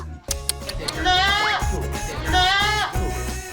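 Thirsty young goat kids bleat loudly and repeatedly at close range, several wavering cries overlapping in quick succession over rustling and knocking sounds.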